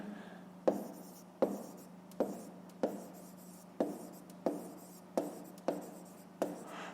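Pen strokes written by hand on paper while working a fifth-grade maths exercise, about ten firm scratchy strokes falling in a steady rhythm, close and clear with no talk.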